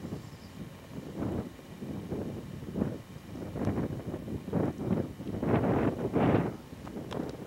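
Wind blows steadily across an open outdoor spot at Cumberland in December, rising into stronger rushing gusts with buffeting against the microphone, loud and continuous with no talk.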